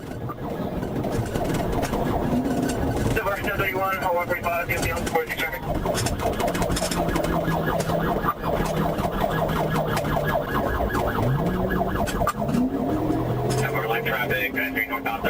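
Police car sirens wail during a high-speed chase on a crowded road, rising and falling over loud engine and road noise, with voices talking over it.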